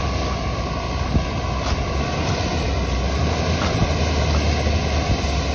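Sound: Sprinter van driving itself out of deep sand

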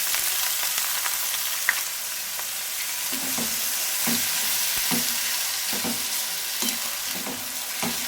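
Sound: onions frying in a pan until soft

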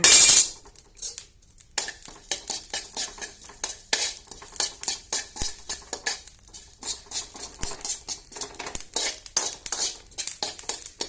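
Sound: sautéing cumin seeds in a pan for pirandai chutney

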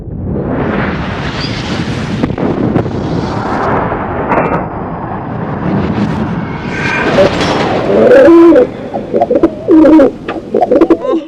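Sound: Madrasi pigeons cooing in loft

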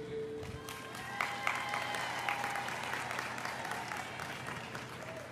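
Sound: audience applauding the athletes

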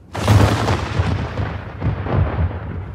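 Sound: musket volley fired by a rank of soldiers

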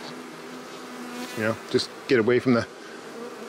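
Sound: honey bees buzzing around a beehive

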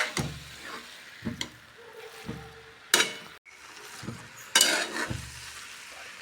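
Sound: carrots sizzling with roasted cashews and almonds for carrot halwa

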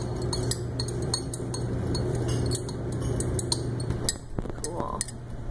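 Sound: stirring with a glass rod in glassware

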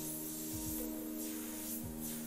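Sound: airbrush spraying paint from a compressor

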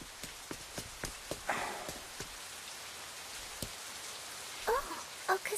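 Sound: rain

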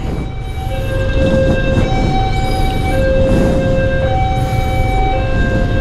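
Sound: train passing

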